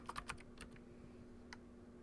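Crisp clicks from a clicky computer keyboard come in a short cluster of close keystrokes, then a pause and one more tap, over a low room hum.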